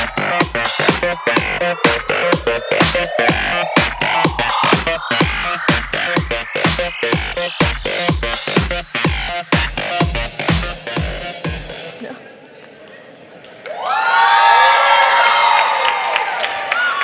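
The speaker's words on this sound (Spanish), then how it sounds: "Le damos un aplauso a Kika Nieto" An audience at a design talk event: a run of loud, evenly spaced rhythmic beats with a rising tone, then a short pause, followed by a burst of crowd cheering and applause.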